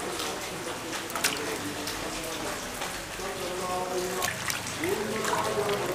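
Potato slices dropping into a bowl of salted water, giving a continuous close splashing and trickling wash with a few brief sharper splashes, under faint background talk.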